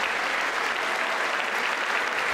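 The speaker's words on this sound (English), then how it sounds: "you got to wait for them to clap, Joe" Dense, steady applause rises from the chamber during President Biden's State of the Union address, a brief unbroken wash of clapping.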